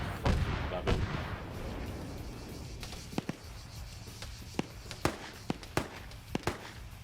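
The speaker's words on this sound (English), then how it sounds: "Autocannon trying to fire from range" Video game autocannon fires from range as sharp, distant cracks in irregular bursts, starting with a few heavier booms and then scattered single shots over a low background rumble.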